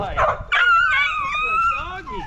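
A dog gives a drawn-out, rising and falling howl or whine, loud and close, lasting about two seconds after a brief bark-like burst.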